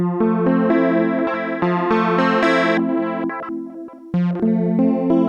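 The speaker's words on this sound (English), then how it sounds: "So now, when I edit macro 1, I'm going through all the different waves." An ASM Leviasynth synthesizer plays a single patch in repeated chord stabs while a macro sweeps through different waveforms, each hit changing in brightness and buzzy, effected tone, with a brief drop in the pattern before it resumes strongly.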